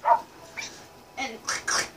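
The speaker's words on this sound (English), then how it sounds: "Get the dog to shut up." A dog barks repeatedly in the video game Minecraft, several short yelping barks in a row, fairly loud and close, with some talk around them.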